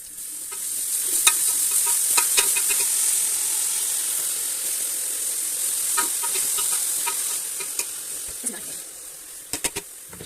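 Raw carrots tumbling into a pot for gajar ka halwa and being stirred in, a steady close hiss with scattered scraping clicks and knocks from the spoon, no talk.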